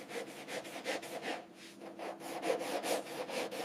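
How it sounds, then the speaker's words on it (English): Rhythmic back-and-forth sanding strokes rasp across an aircraft fuselage panel, feathering rivet lines before primer, quiet and close, about three strokes a second. "Sanding down these panel transitions smooth before primer coats the fuselage"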